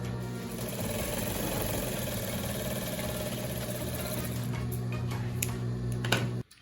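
A sewing machine stitches felt scraps together in one continuous, fast mechanical whir with a steady hum, close and loud, stopping abruptly near the end.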